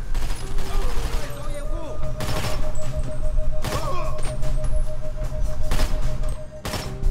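Assault rifle gunfire in a first-person shooter video game, with sharp bursts of shots cracking repeatedly over a steady background hum and music while a player talks throughout.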